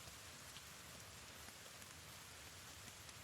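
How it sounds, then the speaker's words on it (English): Heavy storm rain pours down in a dense, steady hiss of countless drops hitting surfaces, constant and enveloping with no pauses or voices. "With the amount of rain that's actually pouring in."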